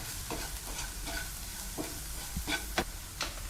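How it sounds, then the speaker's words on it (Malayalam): Spoon scrapes and stirs salt, chilli flakes and pepper powder in a pan for chilli garlic prawns, several distinct clinks and scrapes spaced unevenly over a low steady sizzle, close and moderately loud. "ഇനി നന്നായിട്ടൊന്ന് മിക്സ് ചെയ്യാം."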